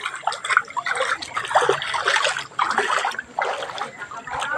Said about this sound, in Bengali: এদিকে জল এদিকে যাচ্ছে